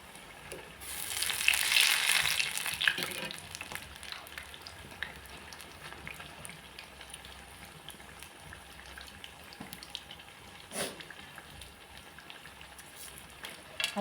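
Bhaji fritters (gram-flour batter) fry in oil, bubbling and sizzling steadily, with a louder burst of crackling near the start that settles into a softer fizz and a few sharp ticks.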